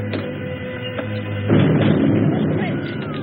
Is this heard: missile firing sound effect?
yes